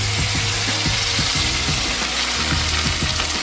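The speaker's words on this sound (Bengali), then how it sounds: "এবার মাছটা ভেজে নেব" A fish fries in hot oil with a dense, continuous sizzle, loud and close, over a low rhythmic rumble.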